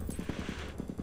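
Rapid machine-gun fire shooting down an enemy in Stickman Run N Gun, a quick rhythmic string of about ten evenly spaced shots, moderately loud.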